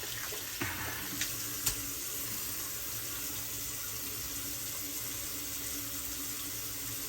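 A bathroom tap runs steadily into a sink as a face is wetted before a shave, a constant close rush of water with a few small splashes near the start.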